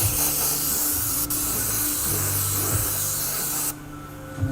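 An airbrush sprays paint onto a 3D printed scorpion mask, a close continuous hiss with small bursts and pauses over a low background hum.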